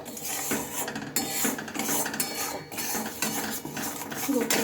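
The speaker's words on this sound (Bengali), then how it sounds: "আমি অনবরত নেড়ে যাচ্ছি" A spoon scrapes and clatters against a pan as a chickpea and jaggery mixture is stirred continuously, with a rough rasping rhythm, close and loud, and no voices.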